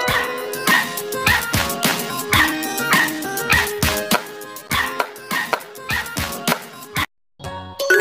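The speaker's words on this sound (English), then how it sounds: "This is a dog." A cartoon dog in a children's animation yips and barks in a quick series of sharp, close barks mixed with whimpers over bright background music, with a brief silent gap near the end.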